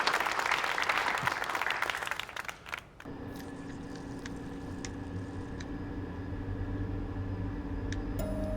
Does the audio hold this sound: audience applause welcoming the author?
yes